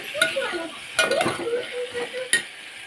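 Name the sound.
okra and cluster beans frying in oil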